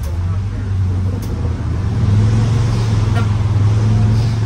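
A school bus with a Caterpillar 3208 diesel engine idles and revs with a steady low drone that swells louder midway, a throaty rumble under faint background sound.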